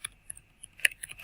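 Keys clack on a computer keyboard as code is typed, a sparse run of sharp close taps with a quick flurry toward the end, no talking.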